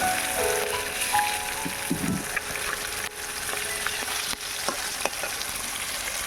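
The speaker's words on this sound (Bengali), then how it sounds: "আবারও একটা সাইড ভালো করে ভেজে নেব।" Katla fish sizzles in mustard oil as the second side fries in a kadai, a steady close crackle broken by several sharp stirring clicks and taps.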